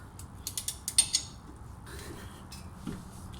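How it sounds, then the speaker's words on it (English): A 17 ratchet loosens a car's top mount nut with a quick run of sharp, close clicks, followed by softer creaking and metallic shifting. "I usually take a ring spanner and a 17 ratchet."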